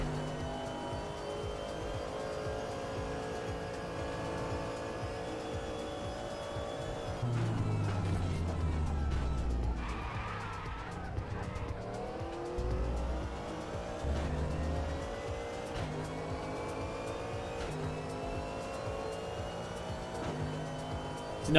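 Race car engine in the RaceRoom racing game, a steady high revving drone with gear shifts and downshift drops, continuous and close throughout.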